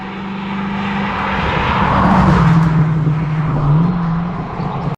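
A TVR Chimaera 450 V8 drones loudly from inside while driving, a steady low engine note that swells and dips slightly as revs change, with no talking.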